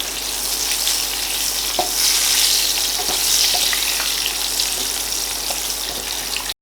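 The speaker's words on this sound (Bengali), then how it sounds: "ভাজার সময় হাফ চা চামচ হলুদ গুঁড়ো দিয়ে দেব।" Cut potatoes sputter and sizzle in hot salted oil with half a teaspoon of turmeric powder, a dense steady frying hiss with occasional stirring clicks throughout, close and fairly loud, ending abruptly.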